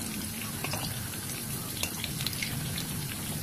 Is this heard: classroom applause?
no